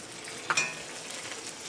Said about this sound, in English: Then we're gonna go in with our onion and hot pepper.